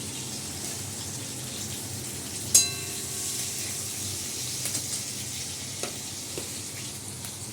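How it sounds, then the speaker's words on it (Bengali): Vegetables with a fried fish head and green chilies sizzle in a pan, a steady close hiss with a sharp clink partway through and a few faint taps. "চচ্চড়ি রান্না করছি। দেখুন, এই মাছের মাথাটা ভেজে নিয়েছি। আর এই যে তরকারিগুলো, একটু কাঁচা লঙ্কা দিয়ে দিলাম"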